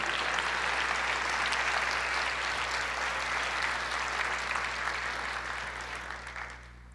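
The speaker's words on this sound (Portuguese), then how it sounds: "Quantos querem aplaudir o Senhor" A church congregation applauding during a sermon, a broad continuous roar of many hands that holds steady before thinning and fading toward the end, over a low constant hum, with no speech.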